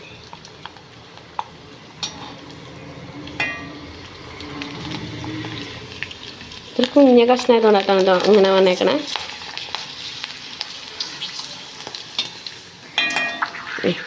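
Carrot papad frying in hot oil: a steady bubbling sizzle with sharper crackles, close by, while someone talks briefly partway through.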